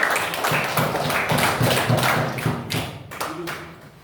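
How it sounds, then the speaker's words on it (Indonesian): Junior high students in a classroom at SMP Muhammadiyah Cikelet clap for group 1, a dense, fairly loud patter of many hands that tapers off toward the end. "tepuk tangan untuk kelompok 1"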